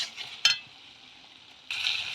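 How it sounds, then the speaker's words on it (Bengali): Pointed gourd and shrimp being sautéed in a pan, a thin steady sizzle with a single sharp utensil clack, then a louder wave of sizzling as stirring resumes. "দিয়ে ভালো করে কষাবো"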